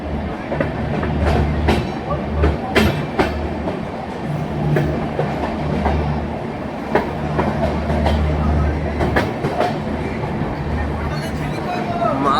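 The Tebhaga Express, a Balurghat–Kolkata train running LHB coaches, rolls into Malda Town station with a loud, continuous rumble and repeated clicking and clacking of wheels over rail joints, while voices murmur on the platform.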